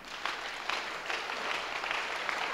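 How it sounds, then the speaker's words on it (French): A church congregation applauding together to acclaim the Lord, a steady, dense patter of clapping hands that holds evenly across the whole stretch without pauses or voices. "On acclame d'abord le Seigneur"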